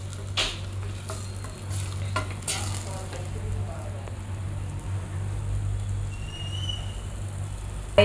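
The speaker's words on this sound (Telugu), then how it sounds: "పుదీనా పచ్చిమిర్చి పేస్ట్ని బాగా పచ్చి వాసన పోయేంత వరకు బాగా ఫ్రై చేయాలి" Mint and green chili paste frying in a pan, a steady low sizzle with occasional sharp scrapes and stirring knocks of a utensil against the pan, heard up close without talk.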